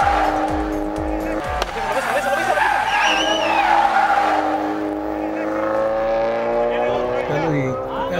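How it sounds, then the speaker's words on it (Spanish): An N4 Light rally car drives hard, its engine revving loudly with tires squealing and skidding through a corner, while someone talks over the noise. "vehículo que está conduciendo el también venezolano Carlitos García, un joven piloto que comienza pues a despuntar dentro de esta disciplina del rally"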